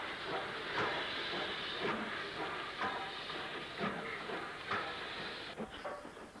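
A Fowler tender-fitted steam locomotive runs light westbound off Miles Platting near Manchester, giving steady hissing steam with rhythmic chuffing beats and some clatter, moderately distant, with no voices.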